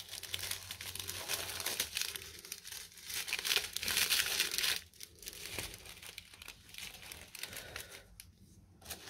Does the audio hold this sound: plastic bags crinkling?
yes